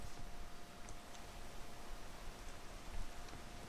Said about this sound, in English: But does it really off and on rain every 5 seconds?